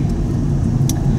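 Steady low engine rumble and road noise of a car driving along in Austria, continuous and fairly loud throughout with no voices.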